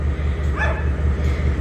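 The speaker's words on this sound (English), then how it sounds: "listening to that jolly dog bark" A dog barks once, a short yelp-like bark over a steady low engine-like rumble, heard outdoors in Taumarunui, New Zealand.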